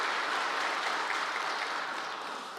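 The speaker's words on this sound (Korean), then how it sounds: "우리 박수로 환영하도록 하겠습니다" Church congregation at a Sunday service claps to welcome a newcomer, a steady, even wash of applause throughout, fairly close and tapering slightly at the end.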